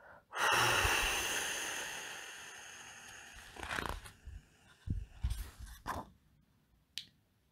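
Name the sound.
deep breath in and blowing out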